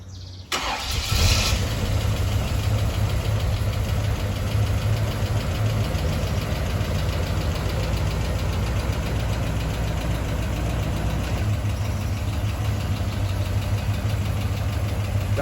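A Chevrolet El Camino project car's engine cranks briefly, catches with a burst, then settles into a steady, loud, close idle with a rough rhythmic knock that holds throughout, no talking.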